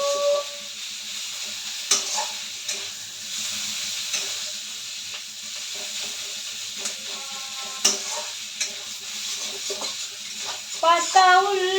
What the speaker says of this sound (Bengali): এই যে পেঁয়াজ ভাজা ভাজা করে নিচ্ছি।